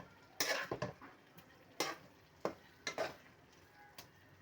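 Spoon stirring keema matar in a metal pan after garam masala goes in, a series of sharp scraping clinks in irregular bursts over a faint sizzle, close and alone.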